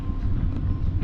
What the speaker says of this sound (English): we are on the SunRail, getting ready to head north to Sanford.